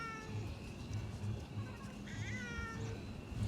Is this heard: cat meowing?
yes